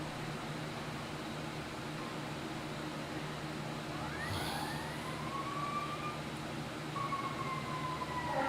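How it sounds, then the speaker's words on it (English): Distant sirens wail over a steady low background rumble, their rising and falling tones drifting faintly through the latter half. "As the sirens go off."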